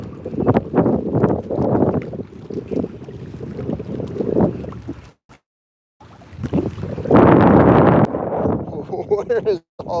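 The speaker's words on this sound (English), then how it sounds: "Where is all this wind coming?" Gusty wind buffets a microphone outdoors near the water on a fishing outing, with someone talking through rough bursts of low rumble, a brief dropout midway and heavier blasts afterward.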